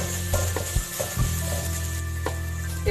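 Ground spices and garam masala are stirred in a hot pan for a moong dal kachori filling, giving a soft continuous sizzle with a few scraping strokes of the spoon, close and steady.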